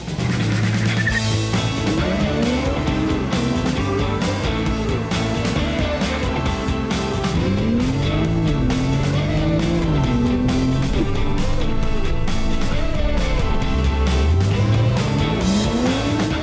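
A Toyota Supra accelerates hard in a loud, continuous run, its engine note climbing through repeated gear-change sweeps, with tire noise in a dense, racing-style mix and no talk.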